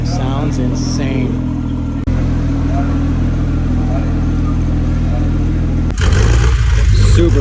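A Porsche Speedster Outlaw engine at a Porsche event in Miami runs loud and close with a steady drone and brief rises in revs, under a voice talking at the start and crowd noise.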